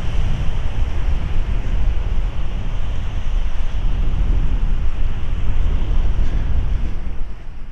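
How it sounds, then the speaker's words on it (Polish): Strong wind blows across a beach in central Aberdeen, Scotland, a loud continuous rumbling buffet on the microphone with surf wash beneath, steady for several seconds without talk. "Kurczę, wieje tu."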